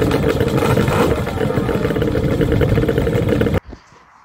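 A loud, rough ATV engine with an aftermarket SLP exhaust rumbles steadily with a raspy exhaust note, then cuts off abruptly near the end, leaving faint clatter.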